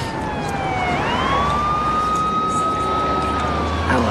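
A police siren wails in a long gliding tone that rises and then holds, heard over steady street rumble.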